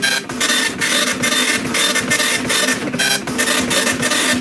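A Tandy colour dot-matrix printer runs with no paper loaded. It gives a loud, rapid buzzing rasp in repeated bursts, each about a third of a second long and separated by brief pauses as the print head sweeps back and forth.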